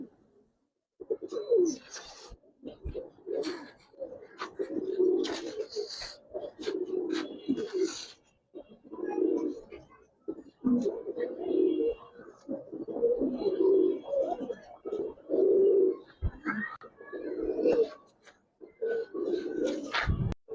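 Laddu-necked and Giribaz pigeons coo repeatedly in soft, rolling bursts, several birds overlapping close by, with occasional brief chirps and scuffles between calls.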